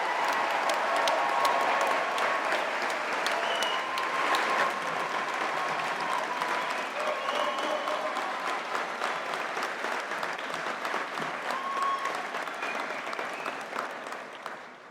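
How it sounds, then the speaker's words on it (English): Sustained audience applause for graduates at a Faculty of Science and Technology graduation ceremony: a long, dense roll of clapping filling a hall, slowly fading toward the end. "I think our graduates deserve a final round of applause."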